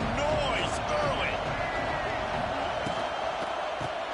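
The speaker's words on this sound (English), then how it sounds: "This crowd bringing the energy and noise early." A college football stadium crowd roars during a game against UNC, a dense continuous wash of cheering and whistles under a play-by-play commentator's voice.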